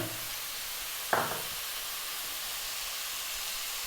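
Onion dropped into a pan of frying pork sets off a sharp burst of sizzle that quickly settles into a loud, steady hiss close up.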